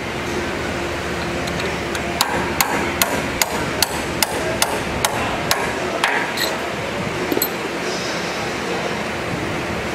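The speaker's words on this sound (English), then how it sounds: "Then we have a roll pin that we need to drive out." Hammer blows driving a roll pin out of a coupler on a Shaftmaster auto weld assembly, about a dozen sharp metallic strikes in a steady rhythm over constant workshop noise.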